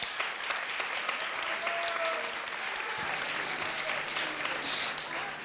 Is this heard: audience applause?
yes